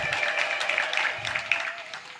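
A church congregation at a healing testimony gathering ululates in praise, a bright continuous trilling chorus filling the room at steady loudness with scattered claps, no speech over it.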